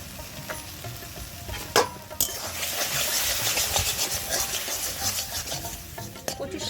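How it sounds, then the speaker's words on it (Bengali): Taro leaves (kochur shak) with turmeric and salt are stirred in a pan in a village kitchen: continuous scraping and sizzling with a few sharper knocks of the spoon against the pan, steady and close, no voices. "এইভাবে নাড়তে থাকতে হবে।"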